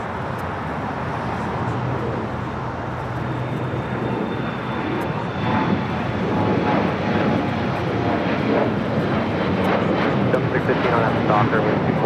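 An airliner on approach to runway 25 left at LAX roars steadily in the distance, the engine rumble swelling slightly toward the end, with a radio voice speaking over it.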